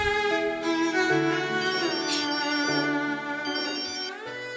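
Phone ringtone playing a melodic series of tones, loud and continuous for several seconds, alone with no talking.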